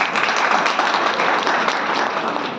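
Hearty crowd applause at a Narmadapuram Hariyali festival gathering welcoming an honored guest, a dense, even wash of many hands clapping close and loud throughout.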